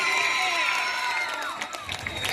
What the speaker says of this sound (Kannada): ಇದೊಂದು ಉತ್ತಮ ಚಪ್ಪಾಳೆ ಬರಲಿ.